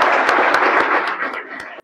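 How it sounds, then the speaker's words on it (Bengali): A room of coaching-class students claps briefly for a classmate's selection, a dense burst of applause lasting under two seconds before it cuts off. "সৈকতের জন্য জোরদার হাততালি দাও"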